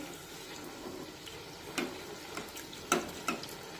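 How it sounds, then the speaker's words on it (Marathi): Poha puri deep-fries in oil over a medium gas flame, a quiet bubbling sizzle broken by a few louder pops and taps from a utensil, fairly faint overall. "गॅसची फ्लेम मध्यमच ठेवा आणि मध्यम आचेवर पुरी छानपैकी तळून घ्या"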